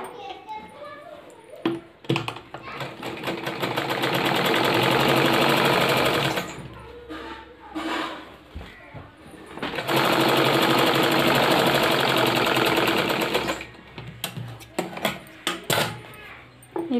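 A close sewing machine stitches a folded sleeve hem over elastic in two long, steady whirring runs, separated by pauses filled with handling clicks and faint children's voices.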